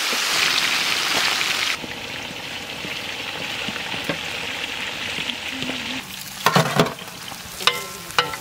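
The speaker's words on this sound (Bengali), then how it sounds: "মাছ ভাজবো সর্ষের তেল" Fish frying in mustard oil in a wok gives a steady, close hiss and sizzle throughout, joined near the end by a few sharp metallic clatters and stirring knocks.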